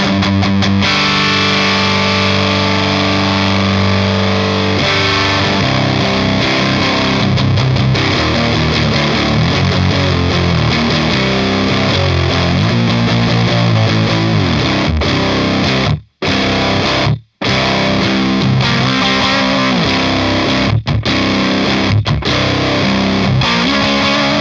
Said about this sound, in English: Let's add the distortion.